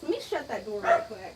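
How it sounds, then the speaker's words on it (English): A pet dog named Tebow barks in a few quick yips close by indoors while someone talks over it. "Sorry about my dog."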